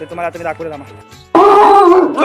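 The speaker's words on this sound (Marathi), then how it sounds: "दाखवतो आमचा कुत्रा" A pet dog at home, fed Pedigree mixed with buttermilk, barks loudly and continuously close by in the second half, after someone speaks.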